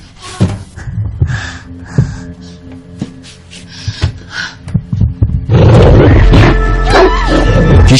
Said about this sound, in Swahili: Kishindo, sauti kama la jibwa hivi.